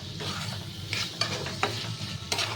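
Potatoes, chickpeas and peas stirred in a hot pan for ghugni, a steady sizzle with a few sharp scrapes of the spoon against the pan, close and fairly quiet, with no voices.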